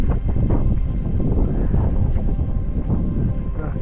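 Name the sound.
cold penetrating wind in a mountain cloud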